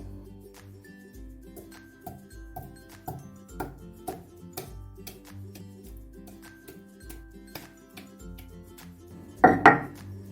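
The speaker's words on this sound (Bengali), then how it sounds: "এরকম অল্প করে থেতো করে নেব আমি শিলনোড়াই করছি" Whole boiled potatoes are lightly crushed on a stone shil-nora for Punjabi-style aloo dum, giving a series of dull, spaced thuds and taps at a slow rhythm, close by, ending in a couple of louder knocks.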